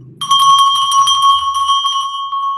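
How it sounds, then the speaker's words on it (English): A bell rings with a bright, sustained metallic tone that starts abruptly and keeps sounding loud and steady, slowly decaying, with no talk over it. "I think someone is ringing the bell."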